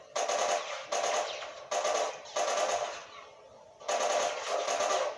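Automatic gunfire in The Last of Us video game comes as repeated loud bursts of rapid shots separated by short gaps, a longer pause midway before two final volleys, with no talking.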